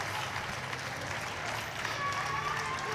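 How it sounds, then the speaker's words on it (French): Spectators at the Tchoukball Nations Cup 2025 final between the Swiss and Singapore next-generation girls' teams applaud in a dense, continuous wash of clapping and crowd noise filling the arena, with voices mixed in. "le public qui applaudit aussi"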